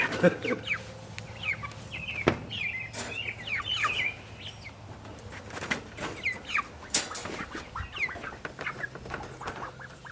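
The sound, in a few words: chickens clucking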